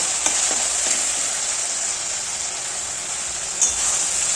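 Onions, tomatoes and green chillies frying in a pan for a chicken and potato curry, an even, continuous bright sizzle with a couple of faint stirring knocks, no talking.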